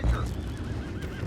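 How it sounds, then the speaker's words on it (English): Horses in Red Dead Redemption 2 give a brief, wavering neigh, close and clear over low rumbling game ambience. "go find out about those horses down below"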